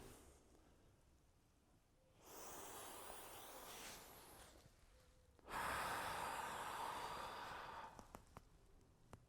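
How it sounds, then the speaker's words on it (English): Deep, forceful breaths during a Hangetsu karate kata movement, recorded close to the mic: a long hissing exhale, a brief pause, then a louder, harsher breath ending in a few short puffs. "you might be able to hear the breathing through because the mic's so close"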